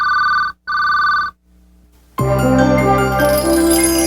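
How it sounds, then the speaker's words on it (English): A GTE Smart Ring telephone gives a distinctive ring, two short electronic ring bursts with a pause between, followed by a loud burst of music that plays over the end. "With Smart Ring from GTE, your phone can tell you who a call is for before you pick it up."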